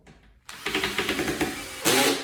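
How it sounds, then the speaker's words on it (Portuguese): Handheld electric screwdriver driving a screw into wood while assembling furniture niches, a steady motor whir with rhythmic pulsing from about half a second, rising louder near the end. "agora eu venho com a parafusadeira"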